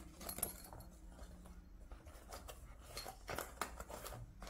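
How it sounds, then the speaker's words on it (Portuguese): A tractor zipper on a fabric pencil case is pulled open in quiet, scratchy bursts of ticking and rasping, close up and faint, with no talking. "Deixa eu abrir aqui o meu zíper"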